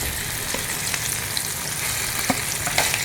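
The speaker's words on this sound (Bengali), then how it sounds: "এবার আমরা মাংসটা দিয়ে দিচ্ছি" Chicken pieces frying in hot oil in a wok, a dense, loud, continuous sizzle and crackle up close, with a few faint pops and taps and no voices.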